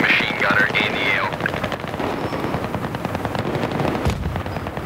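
Rapid machine gun fire rattles through a Battlefield 3 multiplayer match on Operation Metro, continuous bursts over ambient battle noise, with a sharp louder blast near the end.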